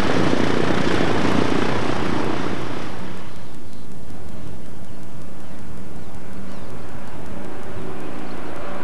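Engines of a Convair airliner in flight, climbing toward high altitude on a cargo run to La Paz, give a loud, steady roar that softens into a lower droning hum after a few seconds, with no talk.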